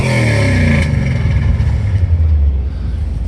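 A 1973 Ford Bronco engine idles steadily with a loud, close, low rumble and a slight shift in pitch partway through, running alone with no talk over it.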